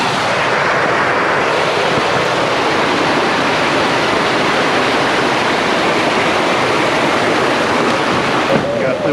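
Steady rushing creek water, loud and close, pouring continuously without a break.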